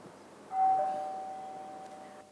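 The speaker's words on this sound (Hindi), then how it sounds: "दरवाजे पर घंटी बजी है" Doorbell ringing indoors, one soft chime that starts abruptly then holds a single clear tone, fairly quiet and slowly fading over about two seconds with no talk.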